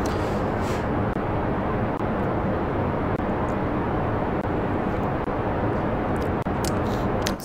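Roaring rocket engines of a roughly 400-ton Kerbal Space Program launch vessel producing about 6,660 kN of thrust, a loud, steady broadband rumble sustained throughout with faint crackles on top.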